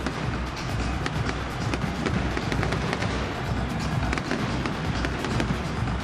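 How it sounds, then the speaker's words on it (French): Huge clusters of fireworks burst over the opening ceremony of the 2019 African Games, a dense, loud, continuous crackle and rumble of overlapping explosions with no break. "D'énormes grappes de feux d'artifice"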